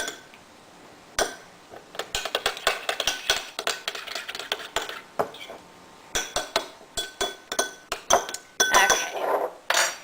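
Ratatouille ingredients with balsamic vinegar and herbs are stirred in a bowl, a spoon clinking and scraping rapidly against the dish in irregular bursts, close and fairly quiet.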